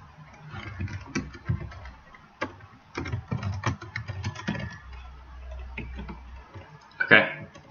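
Typing on a computer keyboard, close and clattery, in uneven bursts of clicks and taps with pauses between them, followed by a brief sharp noise near the end.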